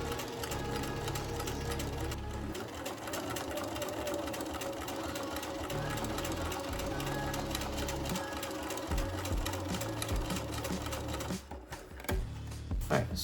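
A sewing machine top stitching a seam on a pair of shorts, a steady rapid mechanical whir and needle clatter running continuously at close range, stopping briefly near the end.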